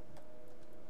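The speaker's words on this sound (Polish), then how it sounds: "Zegar słyszę. O, tu jest zegar." A clock ticks quietly and evenly inside an abandoned interior in the video game BioShock Infinite: Burial at Sea, with a few soft ticks spread over a low background hum.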